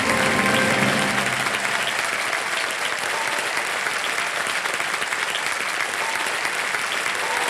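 A studio audience at a televised quiz show applauds, a dense, loud, sustained wash of clapping that holds steady throughout with no clear talk over it.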